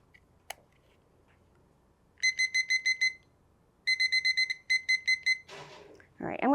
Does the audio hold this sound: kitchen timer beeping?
yes